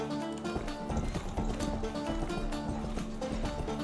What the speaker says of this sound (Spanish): Los caballos, tío.